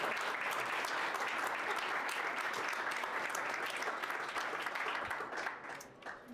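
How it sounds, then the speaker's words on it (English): Sustained audience applause at the close of a panel event on AI in Maine, a dense steady wash of many hands clapping that holds for several seconds before thinning out near the end. "Please give a big round of applause for us."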